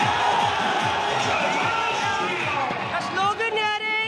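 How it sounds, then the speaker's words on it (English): A crowd at an election victory celebration for the BJP in Gorakhpur chants and claps in rhythmic unison, loud and close, with cheering voices layered throughout. "just hear the chants and the claps."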